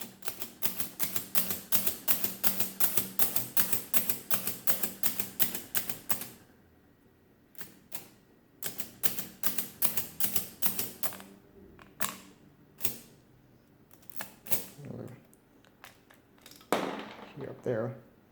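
Mechanical keys clack on a Comptometer 3D11 calculator under repair: a fast run of sharp, close clicks, then a pause and a sparser, irregular series of key presses, with brief talk near the end.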